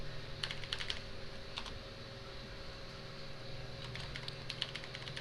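Quiet typing on a computer keyboard, a few short bursts of key clicks separated by pauses, close and soft over a faint steady hum.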